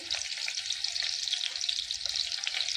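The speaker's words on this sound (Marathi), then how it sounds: "अंडे मी तेला सोडलेले आहेत फ्राय करण्यासाठी" Eggs frying in hot oil for an egg dum biryani: a dense, continuous crackling sizzle that stays steady and close throughout, with no stirring or voices.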